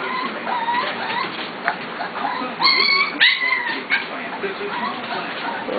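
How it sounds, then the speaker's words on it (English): Eight-week-old corgi puppies make a noisy group din of yips, whimpers and growly chatter, close and continuous, with a clear high howling cry rising out of the mix about halfway through. "Howling and growling."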